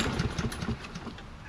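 A Toro Recycler XT675 lawn mower with a Kohler engine running, a low rhythmic chugging idle with a steady pulse, moderately loud and close.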